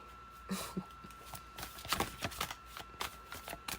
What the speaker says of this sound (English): They won't even let me shuffle.